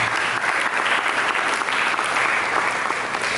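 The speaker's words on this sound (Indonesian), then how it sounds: "Mari kita berikan tepuk tangan." A church congregation bursts into loud, dense applause that continues evenly for a few seconds, many hands clapping close together without pause.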